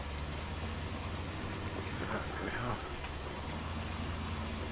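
Steady rain falling in Farming Simulator 19 makes an even, continuous hiss across the whole stretch, with a faint muffled murmur passing briefly through the middle.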